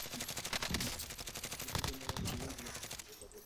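Rapid automatic gunfire in the video game Call of Duty: Warzone, a dense stream of fast, evenly spaced shots that keeps going for several seconds with no pauses.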